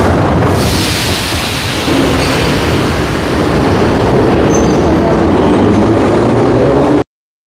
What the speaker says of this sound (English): The train arrived, but the noise will start again soon